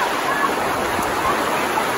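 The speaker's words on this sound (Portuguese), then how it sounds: "Ali tem uma cachoeira" A countryside waterfall roars in steady, loud broadband rush, blended with falling rain, continuous throughout with no talking.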